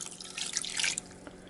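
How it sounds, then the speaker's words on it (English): Water being added to a beef and kimchi stew, with a faint, close trickle and splash of pouring liquid for about a second and a half, no talk. "Add a bit of water until the kimchi is covered."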